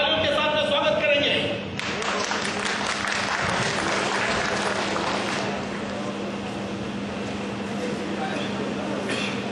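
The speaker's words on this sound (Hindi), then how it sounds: "आज हम तालियों के साथ में स्वागत करेंगे" A Christmas service crowd at BRAMCO Camp in Bahrain claps to welcome the camp's Malayali brothers; after a brief opening sound, steady applause swells and carries on, with voices audible beneath it.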